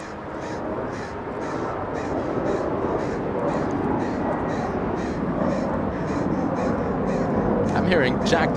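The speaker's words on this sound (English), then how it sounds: "I'm hearing Jack the Crow" A crow caws repeatedly at Los Angeles International Airport, sharp calls spaced through a steady, loud roar of airport and aircraft noise, with a voice talking over it.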